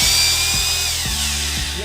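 Ingco rotary hammer runs loud and close with a steady high motor whine, punctuated by regular low thumps roughly every half second as the mechanism spins.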